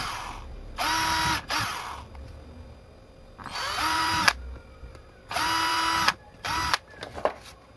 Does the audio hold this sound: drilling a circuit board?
yes